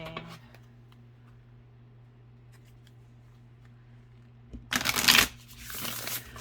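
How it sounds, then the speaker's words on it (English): A short burst of card shuffling, a crisp riffling flutter lasting under a second, follows a quiet stretch with a faint hum; a deck of oracle cards being shuffled. "you can fast forward through this part, or you can listen to the shuffling"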